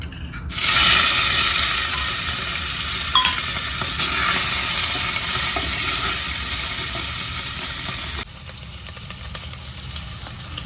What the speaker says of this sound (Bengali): তো এবার ওই তেলের মধ্যেই আমি চিংড়িটা দিয়ে দেবো